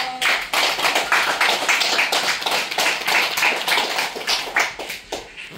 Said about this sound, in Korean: 유튜브를 보고 계신 모든 분들께서도 힘찬 박수로 아련해 주십시오.